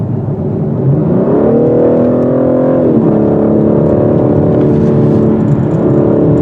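A 2021 BMW M4 Competition heard from inside the cabin, its synthetic engine note piped through the speakers, climbing in pitch under acceleration and then settling into a steady loud drone.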